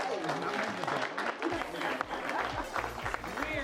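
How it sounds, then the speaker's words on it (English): Comedy club audience applauding as improv performers take the stage, moderate clapping and crowd noise mixed with some voices and movement, brief and fairly close. "Give them a round of applause."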